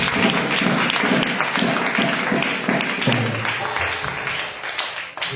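A church congregation applauds and cheers together, dense sustained clapping filling the hall, tapering slightly toward the end with voices mixed in.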